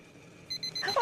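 A small electronic device sounds a bright, repeating beeping alarm that starts abruptly and grows louder within a second, close by and alone.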